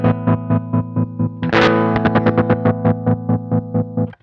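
A distorted electric guitar chord pulses in a regular on-off tremolo, the tremolo speeding up as it swells with a harder strum before the pulsing continues, then cuts off.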